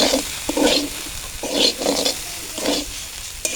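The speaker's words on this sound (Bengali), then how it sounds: "আদা জিরে বাটা দিয়েছি, ভালো করে ভাজি" Vegetables for khichuri stir-fried with ginger-cumin paste, loud close sizzling that swells in repeated bursts as a spatula pushes them around the pan, with no one talking.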